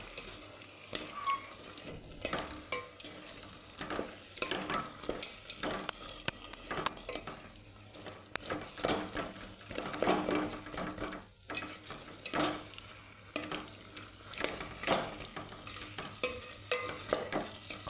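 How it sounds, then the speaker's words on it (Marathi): A spoon stirs drumstick curry with spice mix in a pan, giving repeated scraping and clattering strokes in an uneven rhythm over a faint sizzle, close and fairly quiet. "परत हलवून घेणार आहोत."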